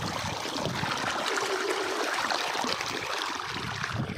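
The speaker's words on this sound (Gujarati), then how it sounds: "જો મસ્ત મજાનું પાણી આવે છે" Water flows along an irrigation channel on a farm, a steady close trickling and gurgling stream at moderate volume with no one speaking.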